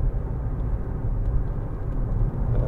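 Steady low road roar inside a moving 2014 Audi A1 1.6 TDI Sport, a continuous broadband rumble of tyre and road noise filling the cabin without any talking.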